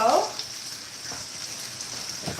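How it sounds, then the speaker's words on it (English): Food frying in a pan in a home kitchen, a steady sizzle with a short louder burst at the start and small clicks of stirring, close and moderately loud. "You can hear that sizzle."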